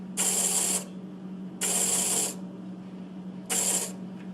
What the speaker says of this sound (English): We're going to hook power to it. See that the motor turns,